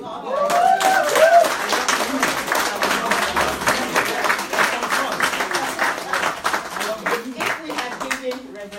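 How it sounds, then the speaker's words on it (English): Audience applause at a women's leadership event, sustained dense clapping from a crowd with faint chuckles mixed in, gradually thinning toward the end. "Another round of applause."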